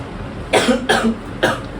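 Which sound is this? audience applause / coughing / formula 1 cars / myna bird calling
coughing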